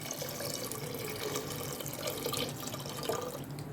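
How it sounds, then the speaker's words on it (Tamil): Water pours steadily into a pan while tamarind rasam is being prepared in a home kitchen, a soft continuous splashing trickle that runs fairly quietly with no voices over it. "உங்களுக்கு எந்த அளவுக்கு ரசம் வேணுமோ அந்த அளவுக்கு தண்ணி ஊற்றிக்கலாங்க."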